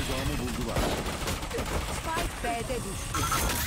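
Rapid gunfire bursts in the video game Valorant, sharp repeated shots in quick succession during a ranked match, with players talking over the shooting.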